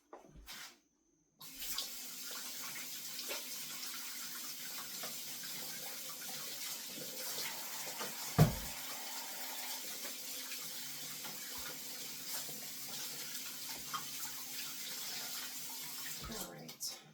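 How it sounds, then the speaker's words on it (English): Hands being washed under a running kitchen tap, a steady close hiss of flowing water that starts after a brief pause and runs continuously, with a single soft thud partway through and the flow cutting off at the end. "Just going to wash my hands really quick."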